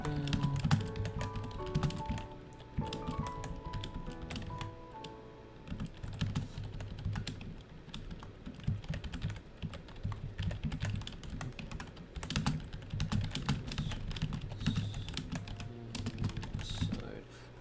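Rapid clicky typing on a computer keyboard, dense bursts of keystrokes close to the microphone, with soft background music and faint talk underneath.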